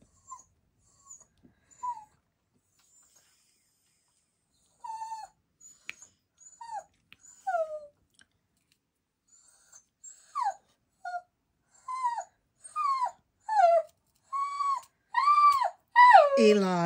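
Hound dog whimpering in soft rising whines that grow into longer, louder howls, close by with quiet gaps between calls.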